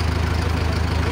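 A tractor engine idles just after starting, giving a steady low, even rumble close by with no talk.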